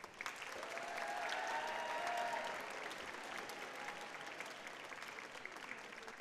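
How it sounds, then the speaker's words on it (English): Applause at a band concert, fairly faint and heard from a distance, a broad wash of clapping that swells early, then settles and carries on with a few whistles or cheers mixed in. "Round of applause."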